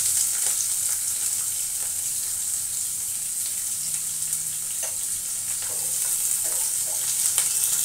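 Onion frying in hot oil with cloves and black pepper, a constant hissing sizzle with occasional light clicks of a utensil, steady and fairly close.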